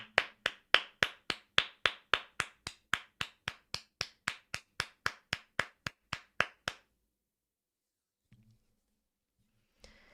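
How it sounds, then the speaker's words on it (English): Sharp claps ring out in a quick, steady rhythm, about two dozen in all, close and distinct before stopping abruptly and leaving near silence with a couple of faint knocks. "You guys should really give yourself a round of applause."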